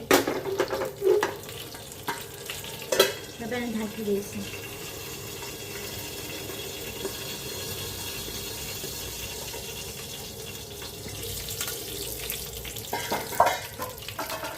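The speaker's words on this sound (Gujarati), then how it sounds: "તલ ફૂટે" About two spoons of sesame seeds crackling in three to four spoons of hot oil, tempering for a chutney. Sharp pops come early, then settle into a soft, steady sizzle, with a short spoken line along the way.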